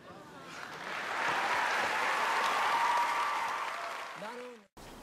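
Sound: applause in Othello film scene

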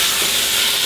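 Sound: beef browning in olive oil in hot pan

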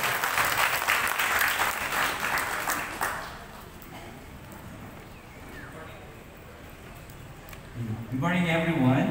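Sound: audience applause at inauguration ceremony

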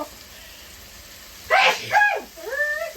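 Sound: sneeze

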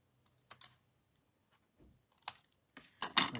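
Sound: snips cutting paper card

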